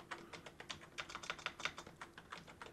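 Fingers type a PowerShell command on a computer keyboard, a quick, uneven run of light clicking keystrokes, close and fairly quiet, with no voice.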